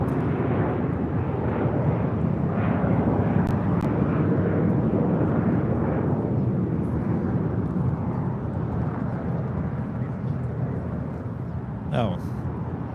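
A U.S. Coast Guard C-37A jet at LAX gives off a loud, steady, broadband engine roar that slowly eases, with a voice talking faintly beneath it.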